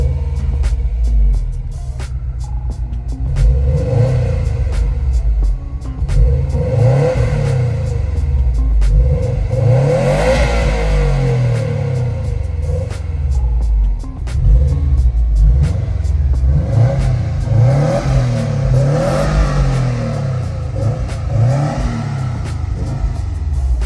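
Stock-exhaust Subaru STI engine revving repeatedly, loud and close, with deep rumbling swells rising and falling in waves throughout, no talking.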